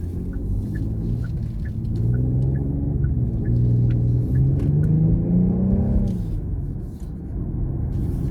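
A 2022 Genesis GV70 SUV in Sport Plus mode accelerates through a turn. A close, deep engine rumble climbs steadily in pitch for several seconds, then eases off.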